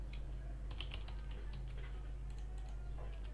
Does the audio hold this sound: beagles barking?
no